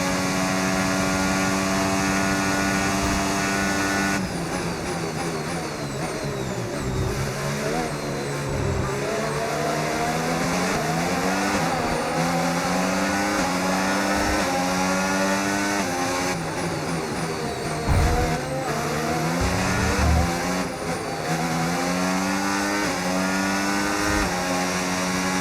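Race cars accelerating around a circuit between Bahrain and Saudi Arabia, several engines revving and climbing through gears in repeated sweeping pitch rises, loud and sustained with occasional gear-change dips and no talk.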